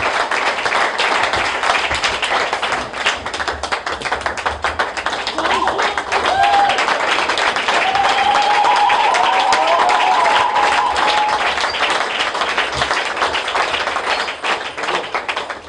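A church congregation applauds in a dense, steady patter of many hands that lasts throughout, with some voices mixed into the crowd noise.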